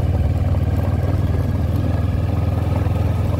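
A motorcycle climbing a hill road toward a temple on a mountain near Takua Pa, Phang Nga, its engine droning steadily and loud with a low throbbing pulse throughout, close to the rider and with no talk.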